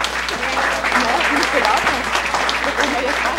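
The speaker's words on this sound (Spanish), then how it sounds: "creo que merecen un fuerte aplauso" An audience applauds actors at a mock public trial hearing, a continuous wash of clapping with a voice audible underneath.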